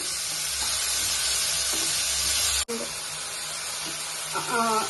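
Onions and tomatoes fry in a hot pan with a steady loud sizzle, a few stirring scrapes and a brief dropout midway, with a soft background tone.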